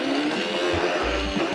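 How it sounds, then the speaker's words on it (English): A blender blitzes a load of vegetables, a loud, continuous whirring roar that holds steady throughout, close by, with no talking. "We're just gonna pop all this in the blender."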